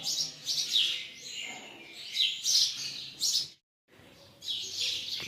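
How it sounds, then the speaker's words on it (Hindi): Birds chirping outside an ancient temple, several bright, close tweets and trills coming in repeated bursts with short gaps, and one brief full silence partway through. "पक्षियों की आवाज़ सुन रहे हैं आप?"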